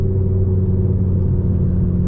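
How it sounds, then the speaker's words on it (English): Steady low rumble of a Revo stage 2 tuned Ford Focus ST225 driving gently, its exhaust and engine note droning evenly and fairly loud throughout, with no voices. "any exhaust sounds that you're hearing will be through the GoPro and not through my professional camera setup"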